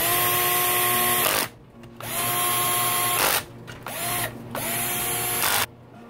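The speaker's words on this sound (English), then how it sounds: "using my cordless with the drag set so I don't strip them out" A cordless drill with its clutch set low drives bolts into a Yamaha YZ250 two-stroke engine during a rebuild, giving three long, steady whirring runs separated by brief pauses, close and loud with no talking.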